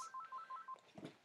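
A telephone rings faintly with a rapid, pulsing electronic trill, several quick bursts in a row, followed by soft fumbling noises.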